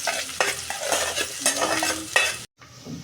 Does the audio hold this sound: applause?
no